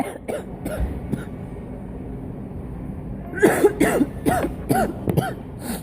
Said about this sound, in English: this cough is really bad